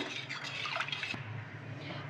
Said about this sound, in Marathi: आपण पाणी मस्तपैकी मिक्स करून घेतलेलं आहे।